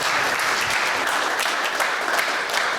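A crowd applauding at a national ideals day ceremony, dense continuous clapping that stays loud and even from start to finish.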